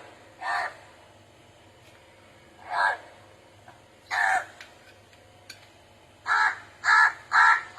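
A crow caws repeatedly outdoors at feeding time, several separate harsh calls spaced apart and then a quick run of three close together near the end, loud and close with no talk over them.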